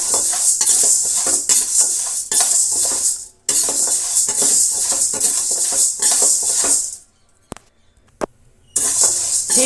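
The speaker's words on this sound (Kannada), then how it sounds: "ಹೀಗೆ ಹುರಿತಾ ಇದ್ದರೆ ಪುರಿ ಆಗುತ್ತೆ ಫ್ರೆಂಡ್ಸ್." White jowar (sorghum) grains are stirred and roasted in a thick-bottomed pan to puff them, giving loud, dense rattling and scraping with a metal spoon in rhythmic bursts and two brief pauses.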